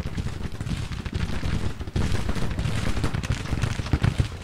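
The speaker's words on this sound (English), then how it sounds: "Sharpshooters. Okay, good, good, they're firing at this unit." Sharpshooter rifle fire in the Civil War strategy game Grand Tactician, a dense, continuous crackle of musketry volleys rolling through the whole stretch with a brief dip near the middle, distant battle noise and no talk.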